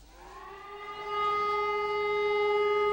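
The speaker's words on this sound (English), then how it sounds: "the traditional wail of the siren" A civil defense siren sounds a long, steady wail for Israeli Memorial Day at a ceremony on Mount Herzl, its tone rising in the first second and then holding loud and sustained with no other sound.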